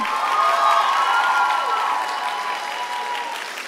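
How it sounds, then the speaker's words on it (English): Audience at a cosplay contest gives a sustained round of applause, dense clapping mixed with some cheering that slowly fades, loud and close. "One more round of, of applause for them."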